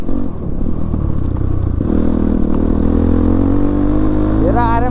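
An off-road dirt bike, a 450, revs and roars close by on a slippery rocky trail, its engine note rising and holding steady before a sharp climbing whine near the end.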